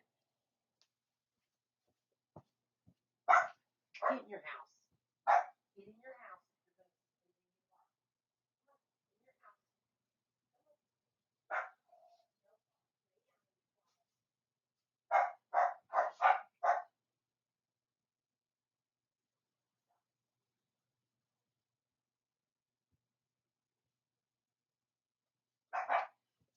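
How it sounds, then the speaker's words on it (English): Several bursts of dog barking, some in quick clusters, with long quiet gaps between; a voice speaks briefly near the start. "I will go see if I can get them to stop their barking."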